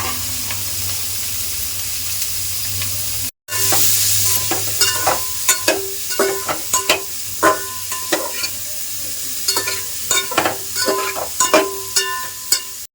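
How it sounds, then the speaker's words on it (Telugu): Paneer fries lightly in oil with a little turmeric, giving a steady sizzling hiss broken by repeated scraping stir strokes in an irregular rhythm, close and fairly loud, with a brief cut in the sound early on. "పన్నీరు లైట్గా గోల్డ్ కలర్ వచ్చేంత వరకు వేయించుకోవాలి"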